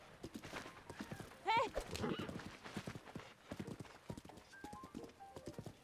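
Horse hooves in the video game Echoes of the Wild clip-clop steadily in a quick trotting rhythm, fairly faint, with a brief whinny-like call early on and low game ambience.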